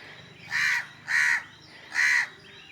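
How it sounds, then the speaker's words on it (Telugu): A crow near its nest by a roadside gives three loud, harsh caws, evenly spaced about half a second apart, close to the microphone against a quiet background. "కాకదిగో కాకి"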